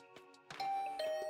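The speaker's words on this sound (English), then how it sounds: "I rang the bell by the side of the door." A two-tone ding-dong doorbell rings at the side of a door in a video game, its clear chime tones ringing out over faint background game sounds.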